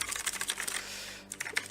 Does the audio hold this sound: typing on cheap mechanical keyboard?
yes